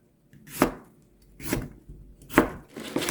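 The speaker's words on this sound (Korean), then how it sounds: "대파도 냄비에 들어가기 좋게 썰어서 하겠습니다." Three or four firm knife chops through green onion on a cutting board, evenly spaced about a second apart, close and crisp, with no voices.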